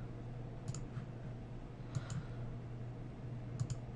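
Mouse clicks and keyboard keypresses on a computer while working in an Excel spreadsheet, three small clusters of sharp double clicks spaced about 1.3 seconds apart over a steady low hum.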